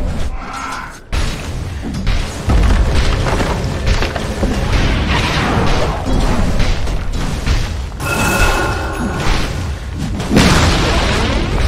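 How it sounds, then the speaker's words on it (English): A tower being destroyed in Dota 2 gameplay, booming crashes and crumbling impacts layered over dense game battle noise, loud and sustained throughout. "Radiant's middle tower has fallen."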